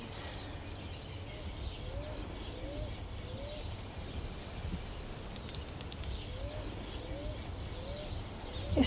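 Doves coo softly in a fruit orchard, with a series of short, evenly spaced calls repeating at a distance over faint background rustle and occasional murmuring.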